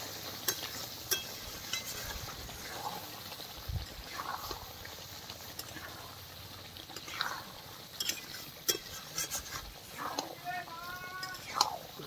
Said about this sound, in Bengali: দেখুন আমি ভালো করে নেড়ে দেবো।